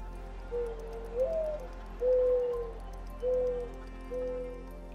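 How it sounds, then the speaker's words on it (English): Doves cooing as a sound effect: several soft, low, smooth coos spaced a second or so apart, gentle and close, over a quiet steady hum with no talk. "The doves cooed."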